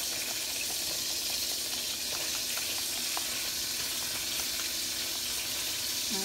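Butter melting in a pan for beef stew makes a steady, quiet sizzle with faint crackling pops throughout, and no voices.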